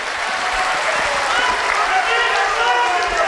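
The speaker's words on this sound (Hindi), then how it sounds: "एक बार जोरदार ताली बजाकर स्वागत कीजिए साथ।" A large political rally crowd applauds the chief minister, Nitish Kumar, and the dense, steady clapping runs unbroken throughout at high volume.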